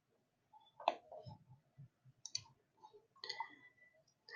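Mouse clicks on page-turn arrows while paging through an ebook, a few sharp clicks scattered over a quiet background with soft low thumps between them.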